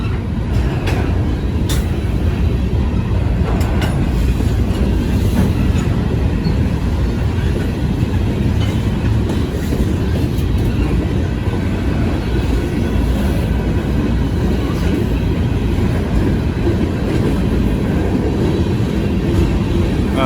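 A Norfolk Southern southbound freight train rumbles steadily past on the rails for a long stretch, a loud continuous roar with faint clanks and squeals on top.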